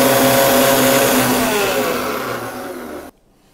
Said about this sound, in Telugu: కానీ మనం ఏంటంటే డైరెక్ట్ మిక్సీ కొట్టేస్తుందండి